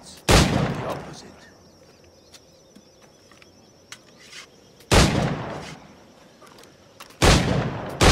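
Three loud, sharp firearm gunshots ring out in Assassin's Creed IV Black Flag, each with a short decaying tail, spaced several seconds apart over quiet background ambience.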